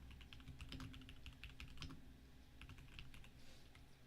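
Quick bursts of keystrokes clatter on a computer keyboard, close and fairly quiet, in uneven runs with brief pauses between them.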